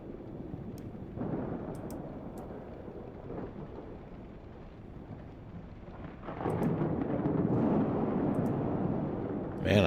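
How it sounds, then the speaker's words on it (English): Thunder rumbling through a thunderstorm outside the cockpit of a PMDG 737 in a flight simulator, a low continuous roll that swells louder toward the end over steady background noise, with no one talking. "We've got ourselves a nasty storm outside, as you can hear."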